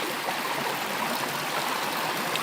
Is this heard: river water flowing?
yes